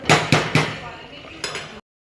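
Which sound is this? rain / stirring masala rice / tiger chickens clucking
stirring masala rice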